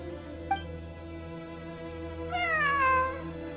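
A cat in Genshin Impact gives a single clear, drawn-out meow with a falling pitch, heard close over a soft steady musical hum, after a faint brief chirp earlier.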